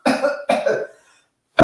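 A person gives two forceful coughs in close succession during a home first-aid demonstration of a partial airway obstruction caused by a foreign body, then a third cough begins after a short silence.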